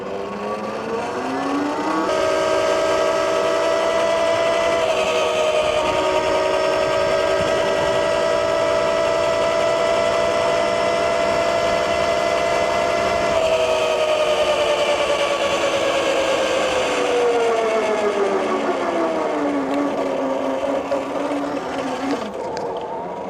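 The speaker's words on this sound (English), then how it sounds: "So this thing can ride really nice in the road," A MEGAWHEELS D2 electric dirt bike riding along a road, its motor giving a loud, steady high whine that holds pitch for a long stretch and then drops as it slows, with no talk over it.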